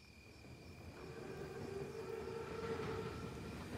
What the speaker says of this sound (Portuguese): O trem chegou na hora.